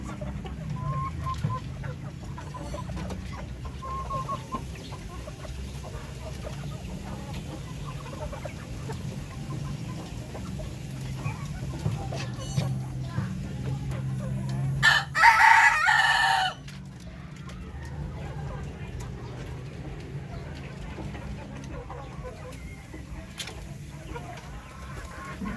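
Hens on a Filipino backyard farm cluck steadily under a faint rooster crow, with a brief louder burst of flock noise midway, moderately distant.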